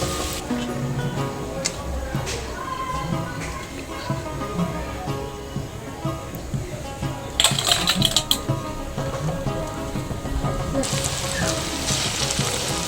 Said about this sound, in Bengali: আমি একইভাবে সমস্তগুলোই ভেজে নেব।